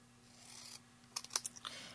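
Scissors cutting across a small metal tag punch piece in a craft project: faint, quiet scraping followed by a few short crisp snips close by.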